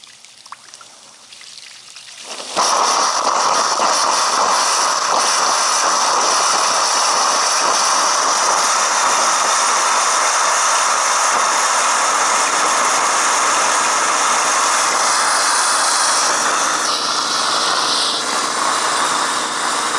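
A garden hose draining through an opened valve, with a steady loud rush of pouring water that starts abruptly after a quiet moment and keeps flowing evenly to the end.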